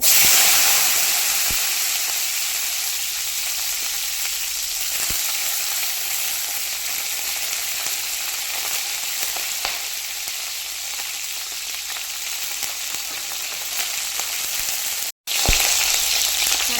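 Green chillies sizzling in a hot pan just after peanuts were roasted, a loud, steady frying hiss with occasional stirring scrapes and one brief cut near the end.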